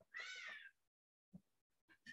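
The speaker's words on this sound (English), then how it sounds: "That was a meow meow. There are cats outside." A cat meows outdoors, one clear drawn-out call followed by a gap and a few shorter, fainter cries, quiet and somewhat distant.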